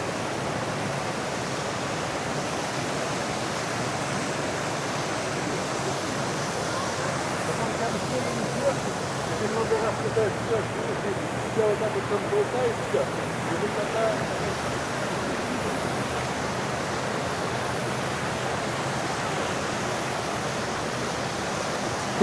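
Loud, continuous roar of water rushing over a spillway, a broadband wash that stays steady throughout with faint voices underneath.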